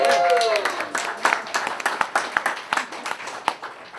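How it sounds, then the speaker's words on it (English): Audience at a campaign event in Concord, New Hampshire, breaking into applause: scattered individual claps thinning to sparse, sharp hand claps as the clapping fades, with a voice briefly heard at the start. "Let's give them a round of applause"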